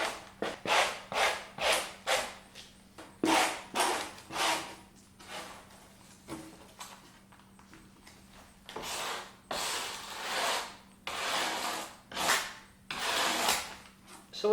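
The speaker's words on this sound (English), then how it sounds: "This brush, well, it's scraping, brushing off this foam" A brush scrapes crumbling foam off the fabric of a BMW E46 sunroof panel in quick, rhythmic strokes, a steady back-and-forth rasping at close range with brief pauses between bursts.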